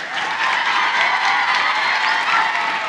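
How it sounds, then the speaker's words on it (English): A large audience at a school Battle of the Books event applauds media specialists, giving a dense, even roar of many hands clapping that holds steady for about three seconds with no pauses. "let me stop and say another round of applause, please, for our media specialists from across the system"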